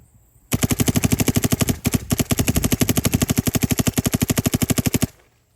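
A Dye MXR paintball marker fires chilled Valken paintballs in a fast, loud, evenly spaced volley of sharp pops. The stream runs for about four and a half seconds, with one brief hitch, then stops.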